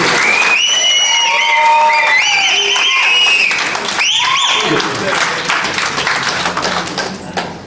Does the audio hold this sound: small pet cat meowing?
no